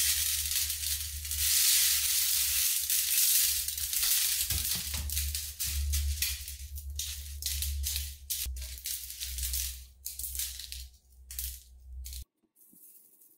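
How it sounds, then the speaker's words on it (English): Dried corn kernels scraped from dehydrator mesh screens and tumbling into a baking dish, a dense hard rattling patter that thins into scattered clicks toward the end, close and fairly loud, with no talk. "So now we just need to sort of carefully take all of the corn off our screens here and put them into"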